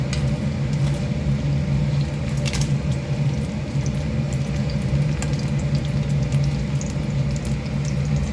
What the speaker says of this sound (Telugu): వేయించడానికి నూనెలో ఎండుమిరపకాయలు, పచ్చిమిరపకాయలు వేసి